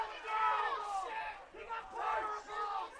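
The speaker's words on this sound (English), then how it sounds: "MacArthur crowd clearly not content with the lack of call there." A crowd at a boys' high school lacrosse semifinal yells in protest over a missed call, a loud sustained mass of shouting voices that swells, dips and rises again.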